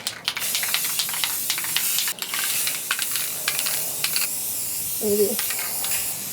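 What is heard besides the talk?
spray can of Rust-Oleum 2X clear gloss spraying a guitar neck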